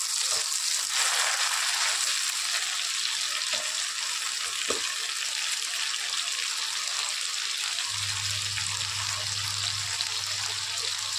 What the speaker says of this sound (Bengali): এবার আমি এই তেলের মধ্যে চিংড়ি মাছটা ভেজে নেব।